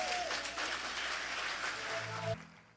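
A church congregation claps loudly as one dense mass for about two seconds, then the applause stops abruptly, leaving a faint room tail.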